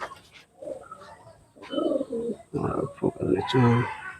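Pigeons in a loft give soft, repeated cooing calls close by, mixed with low voices talking nearby.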